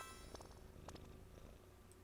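A cat purrs as it is petted in the video game Genshin Impact, a soft, continuous low rumble under faint clinks and chimes from the game.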